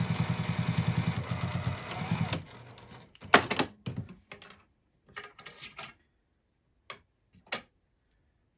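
A sewing machine set to stitch length 3 top-stitches fabric for a boxy tool pouch, a steady close mechanical run for about two seconds, then a few short bursts and isolated taps with pauses between.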